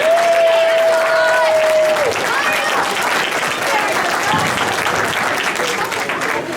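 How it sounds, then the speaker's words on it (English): An audience at a football and cheerleading banquet breaks into loud, sustained applause, a dense wash of clapping across the room that holds steady throughout, with a brief tone fading out near the start. "give that man a round of applause"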